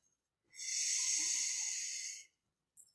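A yoga instructor draws one long deep breath, a breathy hiss lasting nearly two seconds, close and clear against silence, then a brief start of another breath.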